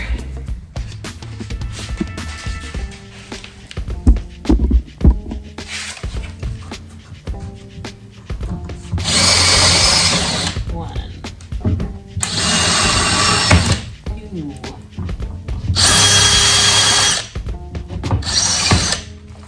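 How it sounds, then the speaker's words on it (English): A power drill whines in several bursts of a second or two each, drilling out rivets on a canoe, separated by clanks, taps and handling noises, close and loud. "Alright, so those rivets are drilled out."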